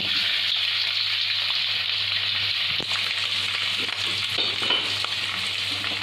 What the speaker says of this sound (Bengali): এবার গ্যাসটা বাড়িয়ে আমি ভালোভাবে আলুগুলো একটু ভাজা ভাজা করে নেব।